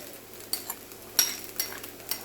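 Onions going back into Spam fried rice coated in sesame oil, with soft sizzling under a handful of quick scrapes and clinks from a spatula stirring the pan.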